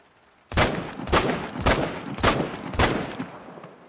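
Five sharp, loud shots ring out from an M1 Iwaniec semi-automatic rifle in theHunter: Call of the Wild, evenly spaced about half a second apart, each ending in a short echoing tail, with no talk.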